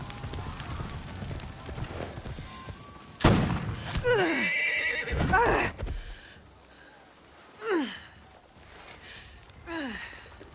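Horse neighing and dying in Assassin's Creed Shadows video game: a loud, strained whinny bursts out after quiet rumbling, followed by fading cries, scuffing hoof thuds and shorter pained neighs near the end, with no talk.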